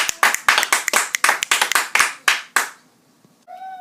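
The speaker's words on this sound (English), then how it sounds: "Applause." A small group applauds after a classroom informative speech with a dozen or so distinct, close claps in an uneven rhythm that taper off, followed by a brief voice.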